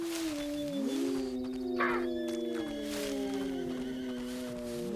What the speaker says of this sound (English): The horses are still around